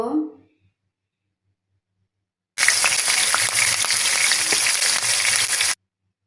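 Onion and garlic paste frying in hot oil in a pan for a pigeon meat curry: after a brief voice and a pause, a loud, dense crackling sizzle starts abruptly and continues steadily, then cuts off.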